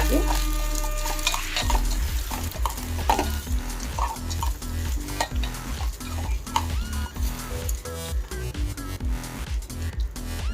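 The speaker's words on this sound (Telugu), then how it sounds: "పల్లీలు ఎలా తీసుకున్నానో పుట్నాలు కూడా అలానే తీసుకుంటాను. ఒక 2 మినిట్స్ ఫ్రై చేయడం." Peanuts and roasted gram dry-frying in a pan for chutney, with a spatula scraping and stirring in quick repeated strokes over a continuous sizzle, close-up and with no talk.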